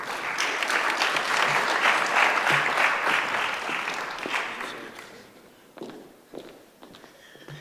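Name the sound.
applause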